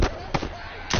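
Gunfire in The Last of Us Remastered on PS4, with several sharp, loud shots in quick succession across about a second.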